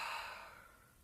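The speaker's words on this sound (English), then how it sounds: "Exhale through the mouth." A slow exhale through the mouth during a guided breathing exercise, one soft, breathy whoosh close to the mic that fades steadily over about a second, with no talking.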